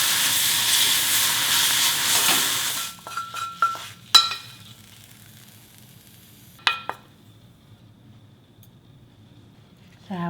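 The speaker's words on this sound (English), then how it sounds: "Let's stir fry mushroom" Mushrooms for a Korean platter of nine delicacies hiss loudly as they hit a hot pan, followed by scattered clanks of utensils against the pan and a quieter, fading sizzle.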